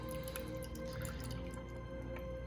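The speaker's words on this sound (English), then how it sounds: "So it does leak water everywhere." Water dripping and splashing as the wet top of an AeroGarden indoor hydroponic garden is lifted off, a steady run of small drips and trickles over a constant background hum with no talking.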